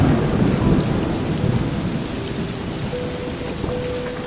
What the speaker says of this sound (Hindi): कुछ ही देर में काफ़ी तेज़ बारिश होने लगी।